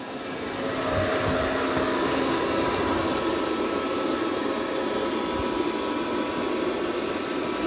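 A Dreame X40 Ultra robot vacuum hums along while mopping a floor with its side brush off, a steady close-up motor whir with faint rolling texture throughout.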